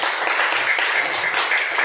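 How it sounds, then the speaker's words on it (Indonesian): Steady, dense clapping from a classroom of students applauding a group that has just presented, loud and continuous throughout with no break. "Ya, tepuk tangan untuk kelompok apa ini? Ya, tepuk tangan."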